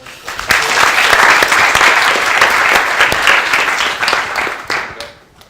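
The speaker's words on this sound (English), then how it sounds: "We'll give them a round of applause." A crowd applauding loudly and steadily for several seconds, the clapping thinning out toward the end.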